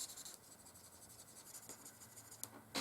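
Felt-tip markers scratch and squeak softly across paper while coloring a drawing, a quiet, close, continuous rubbing with small strokes and a brief louder swipe near the end.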